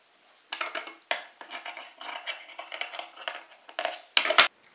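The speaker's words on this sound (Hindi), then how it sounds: "उसी के मार्क को हम कट कर लेंगे" Scissors snipping through doubled kurti fabric at the back neck, a run of short crisp cuts with brief pauses between them and a sharper final snip, close and clear with no talking.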